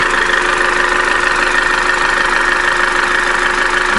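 A warming Opel Corsa D with the 1.4-litre A14XER petrol engine idles steadily and close, its even running carrying a faint repetitive knock with no speech.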